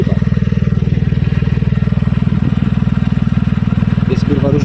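A BMW E39 520i Touring engine with a damaged exhaust, heard from the front, idling with a loud, rapid, even putter throughout.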